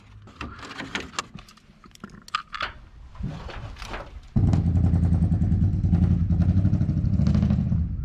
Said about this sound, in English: Something's running on 6 cylinders over there.